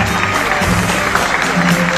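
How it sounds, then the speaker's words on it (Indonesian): Audience applause at an award ceremony, steady clapping from a crowd filling the whole stretch, fairly loud and even, with faint murmurs and tonal hum underneath. "Kita beri tepuk tangan."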